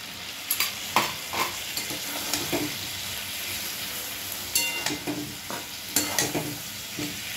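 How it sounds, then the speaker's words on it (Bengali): Spice paste sizzles steadily in hot oil while a spoon scrapes and stirs it, with a continuous frying hiss and intermittent close scraping clinks. "মশলাটা দিয়ে দিচ্ছি।"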